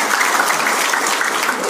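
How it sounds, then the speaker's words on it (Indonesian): A large audience of elderly people claps in a brief, brisk burst of applause. The clapping is dense, even and close throughout, with no voices on top. "Tepuk tangan untuk kita semua."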